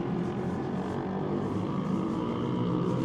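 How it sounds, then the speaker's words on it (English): A single loud motorcycle on a downtown Los Angeles street, a continuous throaty engine drone at moderate distance that holds steady across the moment, with no talk. "Or maybe just one really loud motorcycle."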